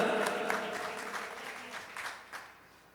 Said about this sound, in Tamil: எமது மதனுக்கு மீண்டும் ஒரு உங்கள் கரகோஷத்துடன்